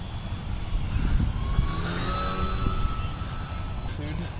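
A twin-fuselage RC carrier airplane on its maiden flight drones steadily overhead, a continuous engine whine rising and falling slightly as it passes, with a voice faintly audible.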